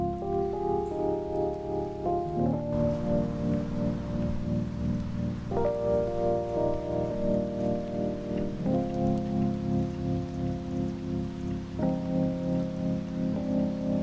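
Steady rain falls outdoors as a constant close hiss of drops, running unbroken under sustained, slowly shifting musical chords.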